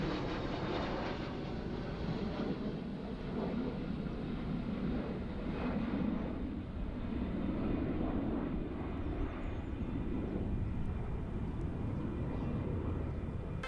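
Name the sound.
Su-30 fighter jet flying overhead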